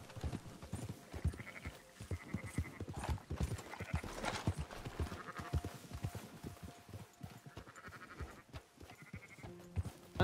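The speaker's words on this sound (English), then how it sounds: "So many sheep." Sheep in Red Dead Redemption 2 bleat repeatedly in a flock while horse hooves clip-clop steadily beneath them, a busy mix of animal sounds with no talking.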